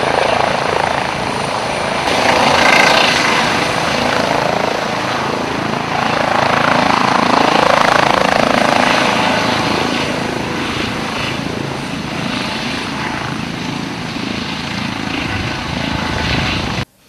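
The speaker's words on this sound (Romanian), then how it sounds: "Elicopterul SMURD a fost solicitat astăzi pentru a duce o fetiță de 9 ani" SMURD rescue helicopter carrying an injured girl flies overhead in Romania, a loud, steady rotor drone swelling and fading slightly over about seventeen seconds before cutting off abruptly.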